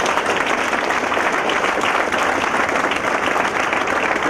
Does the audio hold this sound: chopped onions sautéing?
no